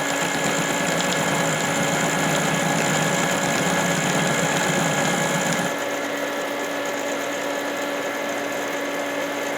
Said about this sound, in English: Alright, it's plugged up. Let's fire it up.